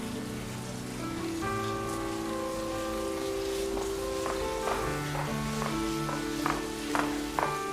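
Heavy rain pours down as a constant broadband wash, with sustained musical tones and chords playing over it throughout.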